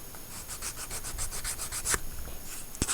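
A fairly rough scrubber rubbed over small plastic tank-track parts to remove sprue connectors in a 1/35 scale M1A2 TUSK II model build: quick, even back-and-forth scratchy strokes, close and alone, ending in a sharp tap.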